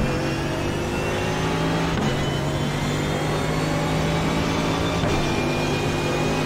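An LMP1 prototype race car in the iRacing simulator drones at steady high revs with brief gear-shift dips, a constant synthetic engine whine with no talk.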